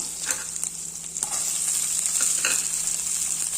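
Chopped onion sautéing in a ladleful of oil with mustard seeds, cumin and a spice paste for a spinach buttermilk curry, with a steady close sizzle and a few scraping stirs of a small ladle.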